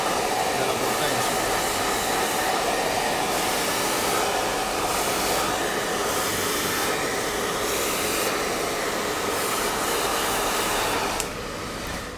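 A hair dryer blows steadily at half power in a barber shop while hair is brushed through, a continuous airy whoosh that stays loud and even before easing near the end.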